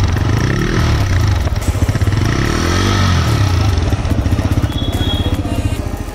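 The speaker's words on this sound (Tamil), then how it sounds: "எக்ஸாஸ்டோட சவுண்டை வந்து நம்ம இப்போ கேட்போம்." Exhaust note of a new TVS Raider motorcycle, a loud, close, steady rumbling idle with pulsing beats and slight rev swells, running alone throughout.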